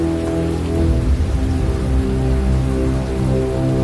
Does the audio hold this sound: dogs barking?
no